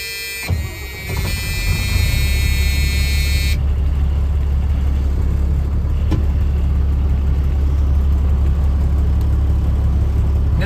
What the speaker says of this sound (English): I want to just start the truck up for you guys so you can see that it starts up